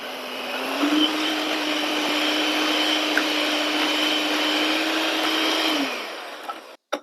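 A sugar and butter mixture creamed in an electric mixer for nutty dry fruit cookies: a steady, loud motor whine holds for about five seconds, then winds down and stops.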